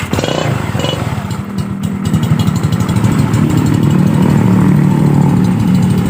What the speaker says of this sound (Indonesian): Motor langsung menyala tuh.